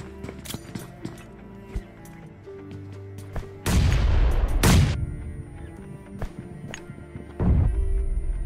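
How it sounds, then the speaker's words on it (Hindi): A grenade explodes in a shooter video game, a loud booming burst rising from sparse background clicks, with a second similar blast following a few seconds later. "बूम भाई साहब, यहाँ पे एक ही ग्रेनेड से तीनों बंदे जाते हैं"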